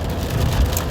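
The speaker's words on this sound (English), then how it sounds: "it's a little rain, but it subside in a few seconds" Light rain patters steadily on an outdoor surface, a soft continuous wash with a faint low rumble beneath and no talk.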